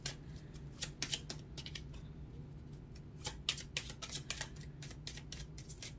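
A deck of tarot cards being shuffled by hand, close and fairly quiet, with repeated crisp riffling bursts and soft slaps in an irregular rhythm and no talking.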